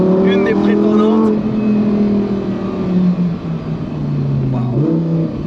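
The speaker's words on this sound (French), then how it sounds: "je le trouve très très beau le bruit dans cette perf" Lamborghini Performante Spyder engine revving while driving, a loud throaty note rising and falling through gear changes, heard from inside with cabin noise and a person talking over it.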